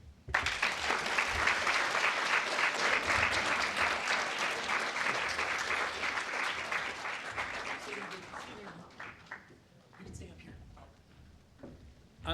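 Audience at a plenary session applauding, a loud sustained burst of clapping that fades gradually toward the end, leaving a few scattered claps.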